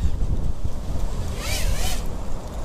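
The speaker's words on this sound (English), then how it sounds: "Holy crap. This is windy." Strong wind buffets steadily throughout, with a rushing gust swelling briefly midway before easing back to a constant roar.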